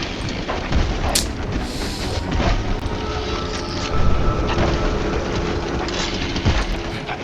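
A monster train in a video game rumbles and clatters continuously, with heavy booming hits from weapon fire and scattered sharp impacts layered over the dense noise.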